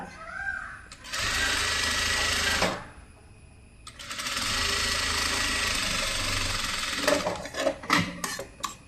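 A sewing machine stitching the slit of a kurti runs in two long, steady bursts of fast whirring stitches, close up, with a brief pause between them and a few clicks and knocks of needle adjustment at the end.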